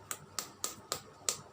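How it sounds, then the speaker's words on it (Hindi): A single finger tapping against the palm of a hand, five sharp, close taps in a steady, slightly uneven rhythm, with no talking. "एक उंगली से अपने हाथ में बजाने की आवाज़ है।"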